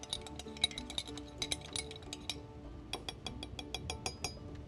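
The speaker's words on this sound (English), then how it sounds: "a little bit more oregano, and I'm just going to whisk that up a little bit." A spoon whisks an oregano marinade in a bowl, giving quick, bright clinks and taps of metal on the bowl in an uneven, close rhythm that carries on without pause.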